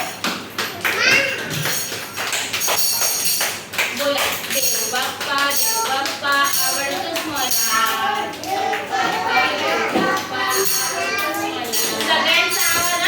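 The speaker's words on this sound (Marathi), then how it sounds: "सगळ्यांनी टाळ्या वाजवायच्या." Children at an anganwadi celebrating Guru Purnima sing a devotional song together while clapping along, a steady bright rhythm of small hands running beneath the loud group singing throughout.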